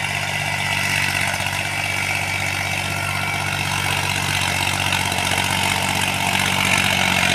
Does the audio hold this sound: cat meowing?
no